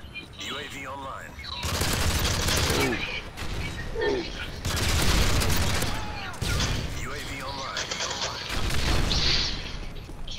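Shotgun blasts in a Modern Warfare 3 match come as loud, broad bursts spaced a couple of seconds apart, with game effects and a player talking between the shots.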